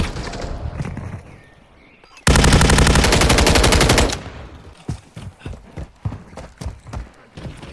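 Gunfire in the video game Modern Warfare III: a loud, sustained burst of rapid automatic fire lasting about two seconds, followed by scattered sharp individual shots and impacts.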